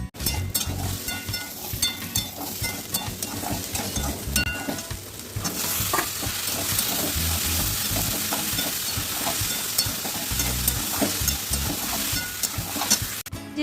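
Ridge gourd and potato cook in a poppy seed curry in a pan, sizzling and frying steadily up close while a utensil stirs and scrapes, and no one speaks.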